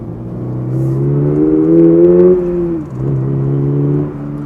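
A Toyota GR86 sports car drives along with its engine audible inside the cabin, rising in pitch as it accelerates and then briefly dropping at a gear change before pulling again.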